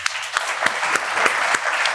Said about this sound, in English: let's have a big round of applause for Angad Kikla